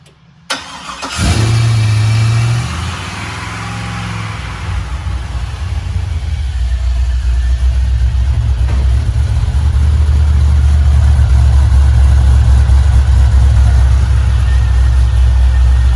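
A 1965 Chevrolet Bel Air with an LS engine swap cranks over and fires up, then settles into a loud, steady, deep idle with a heavy exhaust rumble that holds close and strong to the end.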